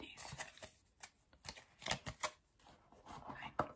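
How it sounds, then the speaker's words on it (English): Playing cards shuffled close up in a quiet room, a series of soft crisp riffles and flicks with short pauses between them, sparse and intimate. "So I just shuffled these cards poorly for nothing."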